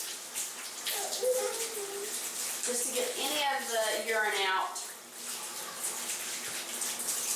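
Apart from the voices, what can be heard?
tap water running while rinsing cloth diapers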